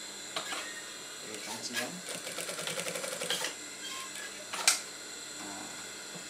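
A sewing machine runs in short uneven bursts, double stitching a seam on a gamis, a close rattling whir that starts and stops, with a brief word spoken and a sharp clack near the end.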